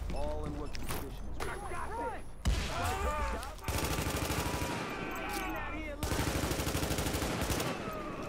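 Automatic gunfire from a weapon in The Division, set on West 45th Street in Clinton, New York, comes in loud sustained bursts separated by brief pauses, with voices talking over parts of it.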